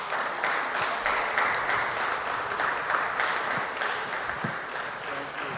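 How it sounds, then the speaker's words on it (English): An audience at a press update on a Virgin Gorda clinic answers with a sustained round of steady applause, a dense even wash of clapping that continues throughout. "indicate by a round of applause."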